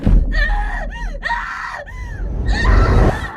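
A woman's long, loud anguished scream, performed by a voice actor for the horror game Silent Hill f, rising and falling in pitch with strained, wavering breaks and gasps between cries, close and alone.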